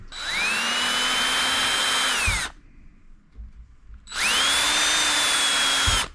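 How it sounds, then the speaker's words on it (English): A power drill with a bit boring a hole for guitar locking tuners whines at high speed for a couple of seconds, stops briefly, then spins up again for another burst, loud and close. "I do believe I could have used the larger drill bit"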